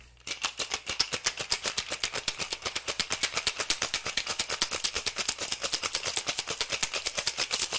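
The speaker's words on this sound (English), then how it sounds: "Give it a quick, solid shake." A cocktail shaker full of ice is shaken hard for a Cosmopolitan, producing a fast, steady, rhythmic rattle of cubes that is loud, close and continuous throughout.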